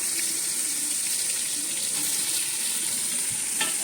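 Chopped onion frying in oil in a pan on a wood-fired chulha, a continuous loud sizzle with a watery, hissing texture and occasional faint scrapes, no one speaking.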